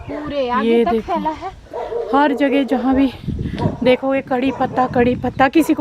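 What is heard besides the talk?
the king's dog barking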